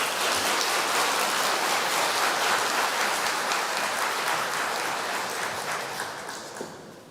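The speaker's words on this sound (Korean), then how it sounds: "박수하겠습니다." Dense applause from a large church congregation, loud and sustained, then tapering off toward the end.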